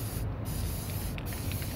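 Yellow spray paint hisses from an aerosol can in one continuous, steady burst, loud and close, with no talking.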